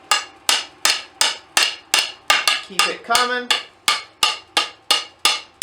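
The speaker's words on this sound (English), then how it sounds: "I'll go ahead and give it some more hammering and keep working it up" Steady, evenly spaced hammer blows ring out close and loud as hot steel is forged into a fishtail scroll on an anvil, with a short spoken phrase partway through.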